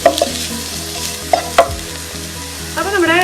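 Spice powders including turmeric and black pepper sauté over a low flame in a pan for fish masala, giving a soft continuous sizzle with a few sharp stirring scrapes and clicks near the middle, close and moderately loud.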